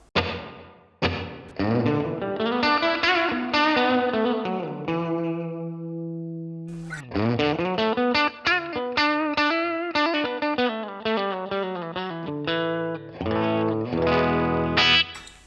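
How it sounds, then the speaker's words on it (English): Heavily distorted electric guitar chords ring out through a NUX amp modeler, each note leaving a lingering reverb tail that fades slowly between strums. "The longer I make it, the longer the reverb trail comes in"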